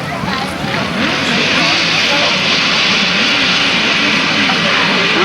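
Grasstrack racing motorcycles at a 1991 meeting rev hard at the start, a loud continuous engine roar filling the clip throughout, with a commentator talking over it.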